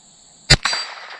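A gunshot from a Ruger 10/22 rifle, followed a split second later by a bright metallic clang as the bullet hits a steel plate target, with a ringing tail. Both are close and loud, with no voices.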